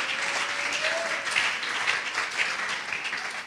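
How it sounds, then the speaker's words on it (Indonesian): A church congregation claps for Jesus Christ, a dense, sustained round of applause filling the room at moderate loudness, with no speech over it. "Tepuk tangan bagi Tuhan Yesus Kristus."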